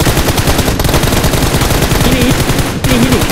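Loud, rapid automatic gunfire in a squad shooter video game, with continuous overlapping bursts of shots filling the whole moment and no pause.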